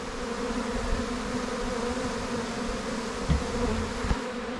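A honeybee swarm buzzes steadily around a hive as the bees return, a continuous faint drone with a few small knocks near the end.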